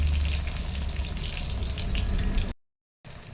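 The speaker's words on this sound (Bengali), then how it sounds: "তো চলো আমি এখন বেগুনগুলো ভেজে নিই।" Eggplant slices fry in hot, deep oil with a steady, close sizzle and crackle that runs continuously, then cuts to a short gap of silence before the sizzling resumes.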